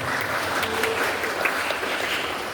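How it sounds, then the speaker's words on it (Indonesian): Steady applause from an audience at a pesantren talk show, dense and even clapping filling the room throughout without letup. "Kasih tepuk tangan buat Manuel"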